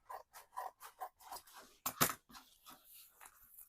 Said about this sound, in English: So we're just going to trim that excess off